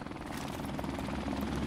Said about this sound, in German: Ich will meinen Helikopter nochmal in der Luft sehen.